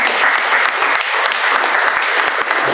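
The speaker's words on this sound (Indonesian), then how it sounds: "Tepuk tangan lagi." Church congregation bursting into sustained applause, dense and loud with sharp individual claps throughout, filling the room with no speech over it.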